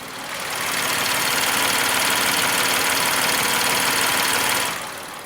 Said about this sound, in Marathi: ऐकलात आवाज चांगलं रिफाईन इंजिन आहे